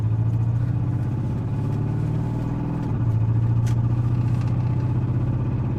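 A 24-year-old Silverado pickup's engine drones and vibrates heavily while driving, with a low, pulsing rumble and rattling clatter. The pitch shifts midway as the truck changes speed, and the sound stays loud and close throughout.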